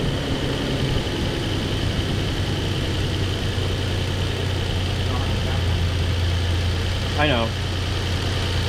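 A car engine idling with a possible head gasket fault, a steady low rumbling drone running evenly throughout, with a brief voice speaking over it near the end.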